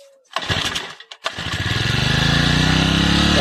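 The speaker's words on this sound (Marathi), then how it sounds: "पाणी पंप हे 4 स्ट्रोक पंप आहे." A four-stroke water pump engine, used to wash a tractor, sputters briefly, cuts out, then catches and settles into a loud, steady running drone with a fast regular pulse.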